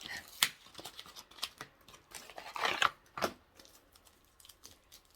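Plastic packaging of a tumbling tower blocks set is crinkled and torn open, with scattered plastic rustles and sharp snaps, close by and intermittent.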